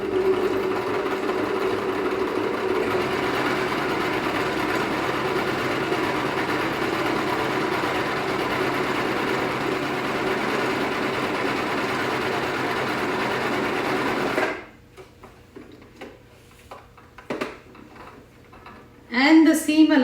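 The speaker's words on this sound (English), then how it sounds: "and sew again, this time with the right sides matching." A sewing machine stitching a fabric seam, a close, fast, even whirring run that goes for most of the stretch before stopping, followed by quiet handling noises and a short final burst.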